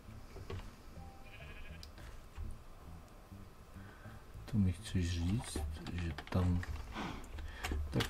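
Sheep in Minecraft bleats several times in a wavering rhythm, fairly clear, mixed with computer keyboard typing and mouse clicks, while a person talks quietly.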